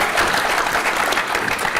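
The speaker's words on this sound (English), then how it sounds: "You can clap for him" Steady applause from a conference audience, a dense wash of clapping hands that holds evenly throughout without pause.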